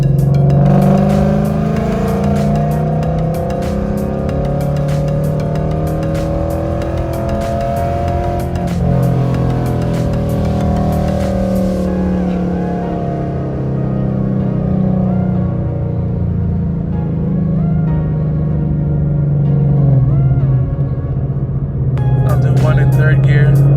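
A Ford Mustang GT pulls steadily in second gear from 2,500 to 5,000 RPM, its loud, close engine drone climbing in pitch over about twenty seconds before easing off near the end.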